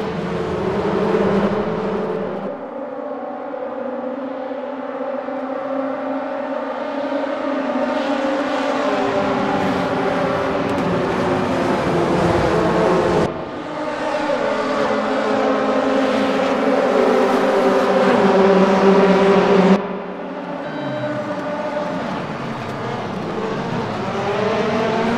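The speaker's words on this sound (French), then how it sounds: "Le son de ces moteurs retranscrit bien ce qu'ils sont dans la réalité." WTCC 2015 touring car engines in the racing game RaceRoom, a loud sustained engine roar that climbs and drops through gear changes, with sharp cuts at shifts across the whole stretch and no talking.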